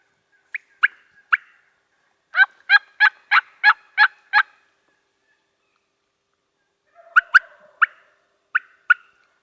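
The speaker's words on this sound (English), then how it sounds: "I'm almost more interested in the hen noises" Merriam's wild turkey hens call loudly and close on a New Mexico hunt: a few scattered yelps, then a quick run of about seven evenly spaced yelps, a pause, and another ragged burst of calls.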